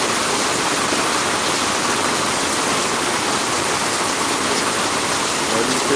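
Steady, loud rain pours down outdoors, a dense continuous hiss of falling water with no breaks across the whole stretch.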